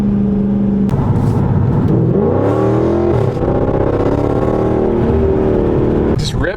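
A 2016 Dodge Charger Scat Pack accelerates hard, its engine note loud and close, rising and shifting pitch through power shifts across the run, with a brief sharp burst near the end.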